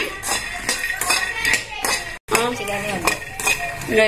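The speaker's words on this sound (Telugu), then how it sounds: "ఇలా కలుపుతూనే ఉండాలండి స్టవ్ హైలో ఉంది కాబట్టి మనం కలుపుతూనే ఉండాలి" Lentils frying in a pan over high heat while being stirred, giving steady scraping and metallic clinks of a spoon against the pan, repeated throughout at close range with no talk.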